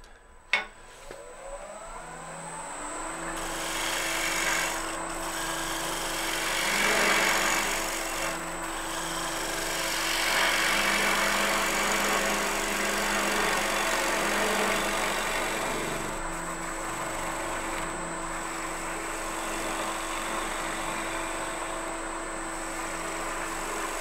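Fluteless gouge taking light finish cuts across the bottom of a wood piece spinning on a lathe, a steady continuous scraping hiss with a constant motor whine throughout, moderately loud and close, no talking.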